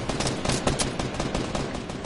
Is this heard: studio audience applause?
no